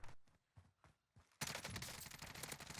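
Groza assault rifle firing in Warzone: a few separate shots, then a sustained, loud burst of rapid automatic fire, close and unbroken.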